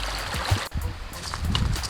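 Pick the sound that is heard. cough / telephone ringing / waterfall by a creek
waterfall by a creek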